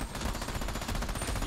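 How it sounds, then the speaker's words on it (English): Dense, rapid automatic gunfire from the Army of Two video game, loud and continuous for a moment with closely spaced shots and no talking over it. "we keep shooting the same guy."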